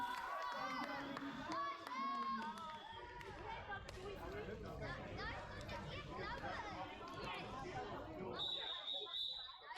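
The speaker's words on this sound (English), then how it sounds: "Some cheering, please, for all the nice roller derby that we are being shown today." A crowd at a roller derby game cheers and claps in a broad, steady roar, with children's voices and chatter mixed in and a commentator talking over it throughout.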